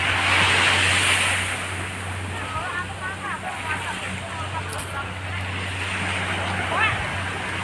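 Ocean surf rolling onto the seashore gives a constant broad wash, loudest at the start, with a low steady hum beneath and faint voices somewhere in the background.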